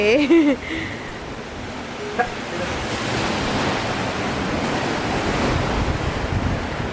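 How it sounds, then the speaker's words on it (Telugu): Ocean surf and strong wind at Desaru beach in Malaysia make a continuous rushing roar of breaking waves, with wind buffeting the microphone and a brief voice at the very start. "ఇదే దేశారు బీచ్"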